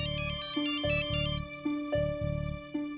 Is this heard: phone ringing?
yes